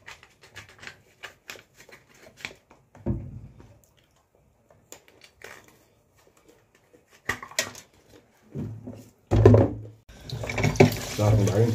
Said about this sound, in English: Starting by rinsing off the grater,